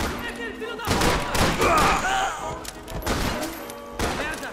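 Rapid gunfire in the shooter Max Payne 3 sounds as a dense burst of loud shots and thuds, layered with game voices and effects over several seconds.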